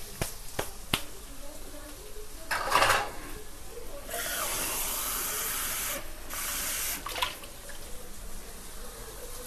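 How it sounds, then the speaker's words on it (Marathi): Water poured into a hot pan of tempering for upma, bursting into a loud hissing, steaming spray after a few sharp utensil clicks, then settling to a steady close sizzle. "आता आपण पाणी टाकून घेऊया."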